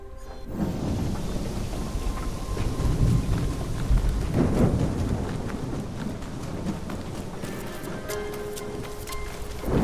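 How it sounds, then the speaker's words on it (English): A thunderstorm in Assassin's Creed Shadows brings steady heavy rain hissing on surfaces, with long rolling rumbles of thunder swelling and fading across the scene and no one speaking. "There's a storm coming in."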